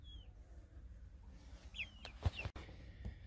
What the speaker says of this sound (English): Them are the three chicks that were in the little brooding box in the well house.